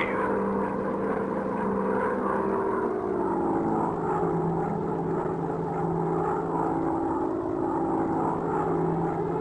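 Propeller bomber's engine in the mobile game Warplanes: WW2 Dogfight, a steady loud droning hum with a low tonal growl that holds unbroken throughout, no voices.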